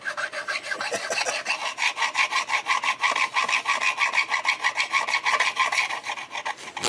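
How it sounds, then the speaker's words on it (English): Steady rhythmic rasping of a metal file drawn back and forth across guitar frets on a knock-off Gibson-style neck, close and fairly loud with even strokes about three per second, no talking. "That metal dust is gonna get on the pickups, Sean."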